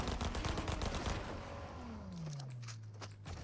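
Fortnite gunfire in a zero-build match: a rapid burst of automatic shots rattles at the start, followed by a descending whooshing sweep and scattered quieter game effects, all fairly faint.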